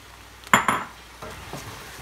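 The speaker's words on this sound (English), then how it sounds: "we're gonna stir those in" Chopped vegetables are stirred into a pot of cabbage soup, with a couple of sharp spoon clanks against the metal pot followed by softer scraping stirs, close up and without talk.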